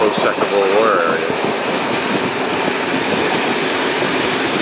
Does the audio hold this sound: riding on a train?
yes